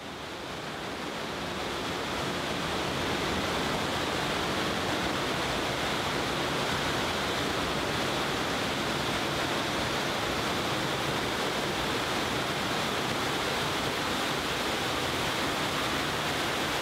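Water pours steadily down a waterfall inside an underground river culvert, a loud, continuous broadband rush that echoes in the enclosed tunnel, with no voices.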